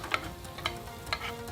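Dashimaki egg sizzles quietly in a square pan, a soft steady crackle with a few light clicks of a spatula against the pan, faint and close, no talking.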